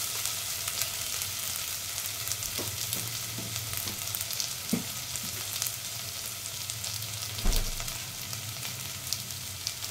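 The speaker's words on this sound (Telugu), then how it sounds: "కొంచెం ఫ్రై అవ్వాలి." Ginger garlic paste sizzles and fries steadily in a pan. The hiss is continuous and close, broken by occasional soft clinks of stirring.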